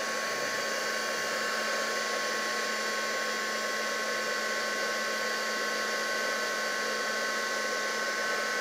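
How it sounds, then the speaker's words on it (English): A crafting heat tool blows steadily while melting black embossing powder, a smooth, even, fan-driven whoosh with a faint whine, close and constant with no talking. "And using our heat tool, we're going to melt this."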